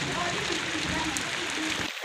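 Steady rain pours down in Layyah, Pakistan, a dense continuous hiss of drops on surfaces close by, with people talking faintly underneath throughout.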